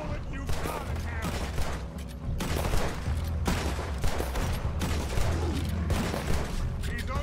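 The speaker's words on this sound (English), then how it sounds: "Put every bullet you've got in here." Dense gunfire from Red Dead Redemption 2 rattles on without a break, loud and continuous, with overlapping bursts and booms while game voices and music mix underneath.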